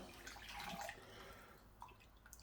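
Pre-boiled water is poured into a jug, a soft, faint liquid splash and trickle lasting a couple of seconds, with no voices.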